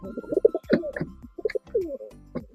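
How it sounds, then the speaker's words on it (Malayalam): A female pigeon coos nearby in a series of soft, throaty, rolling calls with short pauses between them. "ഇത് ഫീമെയിലാണ്, കുറുകുന്നത് നോക്കണ്ട"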